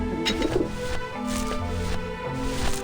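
Pigeons cooing in the adventure game Grim Fandango: soft, close coos set against a layered tonal music background, with no voices.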